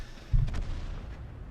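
A Kanonenjagdpanzer tank destroyer's gun fires a single deep, booming shot in World of Tanks, a sharp thump followed by a rumbling tail that fades over the next second.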